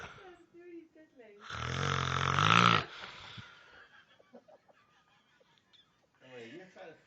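Loud, long snoring from a sleeping person: one heavy, rasping snore lasts over a second, set between quieter breathing and some nearby talk and laughter.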